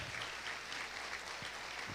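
Church congregation clapping loudly in worship, a thick, even wash of applause holding at constant strength with no talk over it.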